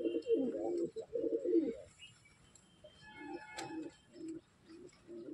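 Fancy pigeons, including Shirazi and Lakka breeds, coo close and loud in a run of throaty rolling phrases, then continue more softly in short repeated bursts, no talking.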